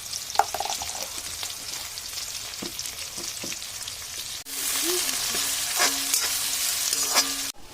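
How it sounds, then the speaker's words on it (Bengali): Chopped onions with salt frying in a pan while being stirred, a soft sizzle with scattered spoon scrapes that turns into a louder, steadier sizzle partway through, with clinks of the utensil and no talking. "এবার দিচ্ছে পেঁয়াজ কুচি। দিচ্ছে লবণ,"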